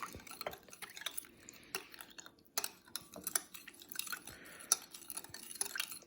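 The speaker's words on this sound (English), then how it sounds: "Give it a quick mix." Beef jerky marinade ingredients are stirred in a bowl with soft, irregular clinks and wet scraping, close and quiet, with no one talking.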